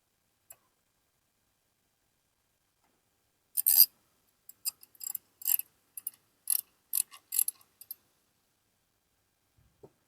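A 19mm ratcheting socket wrench loosens the spark plug on a Poulan Pro 50cc chainsaw, giving close, crisp bursts of rapid clicks in short runs that stop and start again, with silence before and after.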